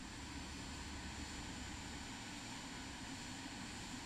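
Steady, loud jet whine and low rumble from the Vision Jet G2 while it parks in Flight Simulator 2024, a continuous unbroken drone with no talking.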